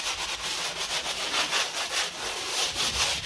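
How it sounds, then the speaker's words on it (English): Rapid, steady scratchy rubbing of a sponge sander against a wall, continuous strokes close up with a soft rhythmic pulse and no talking. "Sponge, this is a sponge sander."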